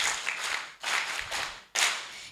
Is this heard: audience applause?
yes